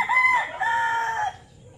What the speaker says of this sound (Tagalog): Dami niyang manok oh. Daming alagang manok.